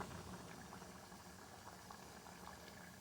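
Beef stew with garlic and onions at a steady rolling boil in a pot, a continuous close bubbling and popping texture with no talk over it.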